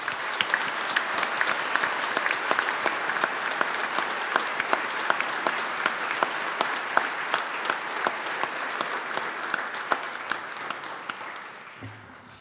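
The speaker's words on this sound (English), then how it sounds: "How about a round of applause for our newly instituted lector?" A congregation applauds at a Sunday Mass in church, with sustained even clapping that fills the space and then fades away at the end.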